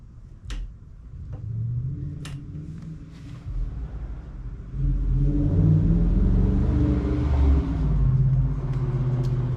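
A Harley-Davidson motorcycle fitted with a Miller power clutch pulls under acceleration, its low engine rumble building steadily and growing louder about halfway through, with no talking.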